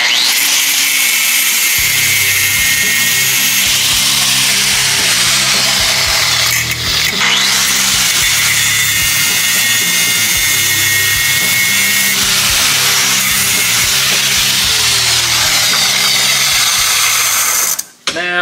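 An angle grinder cuts off a broken bolt head just above its base, running as a loud, sustained high-pitched whine with a steady buzzing drone for most of the time, with a short dip near the end.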